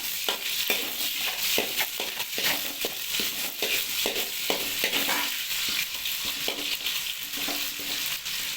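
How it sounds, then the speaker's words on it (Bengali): Bay leaves and cloves fry in hot oil with browned onion as a spoon stirs them around the pan, a steady close sizzle broken by repeated scraping taps. "তেজপাতা লং অ্যাড করলাম, একটু হালকা নেড়ে নিতে হবে"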